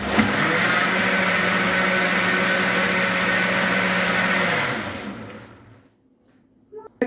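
A blender runs steadily through a final grind of a homemade butter or honey mixture, a loud constant whir for about five seconds before spinning down to silence, then a few small clicks.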